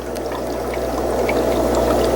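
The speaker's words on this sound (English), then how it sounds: "Water's just boiling out of these things." Water churning and bubbling continuously from a pond aerator, a steady rushing gurgle with a low pump hum underneath, heard close.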